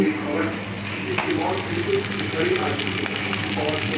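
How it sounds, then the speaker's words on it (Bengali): Fish frying in a pan makes a steady, crackling sizzle, a constant hiss that runs at an even level from start to finish. "মাছ ভাজা হচ্ছে"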